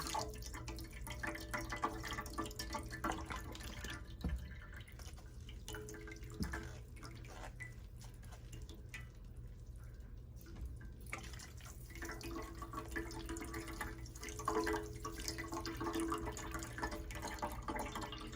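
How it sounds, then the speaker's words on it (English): Distilled water trickles and drips while rinsing homemade quark in a kitchen, faint and continuous with scattered small drips over a quiet background, no speech. "Now you have to rinse the quark. So I've got some distilled water here to rinse it off with."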